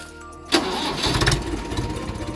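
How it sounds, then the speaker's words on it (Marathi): A farm tractor engine cranks and catches after a quiet start, then settles into a rough, loud idle close by, with no voices. "कुसुमताई पुढे पुढे ट्रॅक्टरही चालवू लागल्या।"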